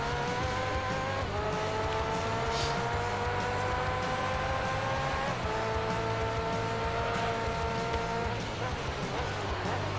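Race car engine in the video game Gran Turismo 3, a faint but continuous drone whose pitch climbs steadily and drops back with each gear change, shifting about three times.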